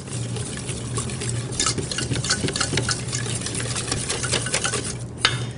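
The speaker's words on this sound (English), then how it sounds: "And mix these ingredients." Raspberry paste and mousse filling ingredients stirred in a bowl, a steady wet scraping and mixing sound that runs close and continuous throughout, with a low hum underneath.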